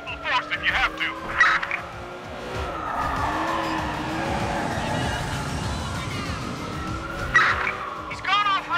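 Police car chase in the video game Watch Dogs 2, a vehicle going off-road with engine drone and tire skids, brief screeching bursts near the start and end over a steady rumbling roar.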